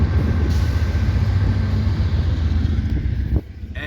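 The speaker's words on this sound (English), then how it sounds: "unit train of loaded grain or corn or soy" A loaded unit freight train of grain, corn or soy rolls past with a loud, continuous low rumble and steady rail clatter, a faint squeal running through it, easing off near the end.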